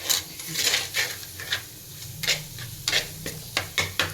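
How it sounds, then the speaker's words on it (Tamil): Coriander, chili and turmeric powders sauté in a pan with salt, a steady low sizzle punctuated by repeated scraping stirs of a spoon against the pan, with no voices. "போட்டுட்டு லைட்டாக பச்சை வாசம் போகிற வரைக்கும் வந்து வணக்கிடலாம்"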